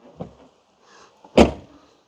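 A soft thump and rustle, then a louder solid thud of a 2017 Volvo V40's trunk lid shutting nearby, with a faint hum in between.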